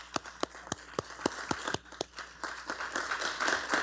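Applause at a Chatham-Kent council meeting starts with a few sharp, evenly spaced claps, then thickens into denser clapping from more people in the room.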